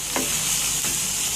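Onions being stirred in a pan while cooking for a rice dish, a steady close sizzle broken by two brief scraping strokes of the spoon.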